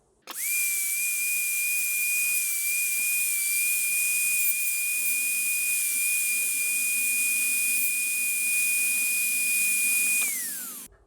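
A dental lab handpiece fitted with a denture bur trims a temporary front tooth, spinning up to one steady, high-pitched whine that holds for about ten seconds before winding down. Only faint grinding and background hiss sit beneath it.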